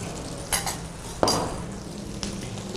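Finely chopped tomatoes fry with onions in a pan, giving a soft, steady sizzle broken by a few sharp clinks and scrapes of a spoon stirring against the metal.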